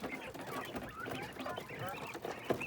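Caged laying quails of a breeding flock with males chatter and cluck continuously, a dense overlapping mix of small bird calls at close range.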